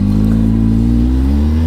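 A 2012 Polaris RZR 800 S side-by-side running in two-wheel drive, its engine holding a loud, steady mid-pitched drone that rises slightly as it accelerates close by, with no talking.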